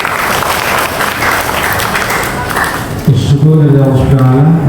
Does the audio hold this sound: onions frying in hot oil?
no